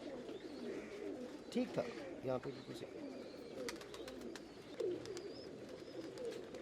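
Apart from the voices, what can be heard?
Athre pigeons cooing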